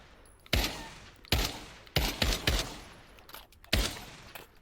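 Rifle fire in the VR shooter Pavlov VR, World War II update: five sharp, loud gunshots spaced irregularly about a second apart, each with a short echoing tail, no talking.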